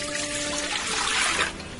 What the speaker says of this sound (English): Now to this I'm going to add 4 cups of water